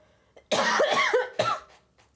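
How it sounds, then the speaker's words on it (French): Two harsh coughs close up, the first a rough drawn-out burst, the second shorter, then quiet. "Regardez, ça me fait tousser."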